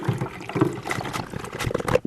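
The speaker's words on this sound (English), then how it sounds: "Now this is water going in" Water fills the reservoir of a Keurig 2.0 coffee maker, a continuous close splashing and gurgling pour that holds at a steady level throughout.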